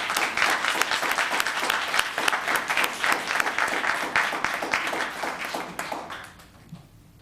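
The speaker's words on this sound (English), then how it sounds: "Let's give her a round of applause." Audience applause at a Los Gatos town council meeting, a dense steady round of clapping from a room of people that holds loud for about six seconds and then fades out.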